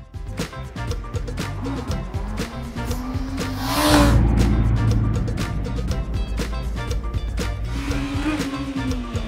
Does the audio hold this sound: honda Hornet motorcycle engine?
yes